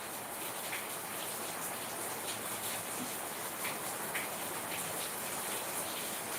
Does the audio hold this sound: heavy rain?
yes